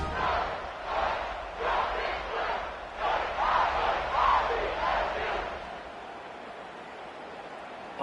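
A home football crowd in the stands cheers and roars in repeated surging waves, loud and sustained, then eases to a steadier murmur near the end.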